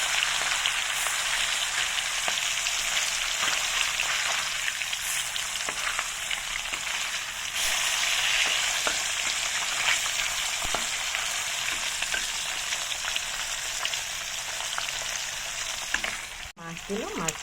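Fish fries in hot oil in a wok with a loud, continuous crackling sizzle, a fine spatter of pops running under it, and a sharp clack of a utensil against the pan near the end.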